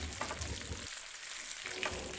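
Sliced onion and capsicum crackle in hot oil in a pan on a medium gas flame for restaurant-style dry chilli chicken, a steady close-up hiss that briefly softens and then returns, with no voices over it.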